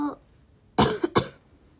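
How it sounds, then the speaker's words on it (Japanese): Two sharp, close coughs in quick succession follow a brief vocal sound, in an otherwise quiet indoor room. "咳が出る。"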